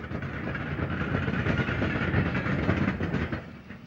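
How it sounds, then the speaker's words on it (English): An LNER B1 steam locomotive hauls a mixed freight train near a summit in Scotland, a steady, dense rumble of wheels and rolling wagons close by that holds level, then eases slightly at the end. "Approaching the summit from the north, a B1 passes with a mixed freight."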